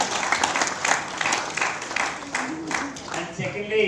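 An audience at a budget session talk applauds to welcome guests, giving steady, dense clapping throughout, with a voice speaking over the applause near the end.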